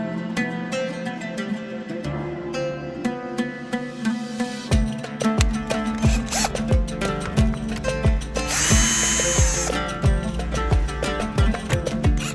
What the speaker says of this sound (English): Remove these 4 screws from the head unit using Palimpsest screwdriver or cordless screwdriver.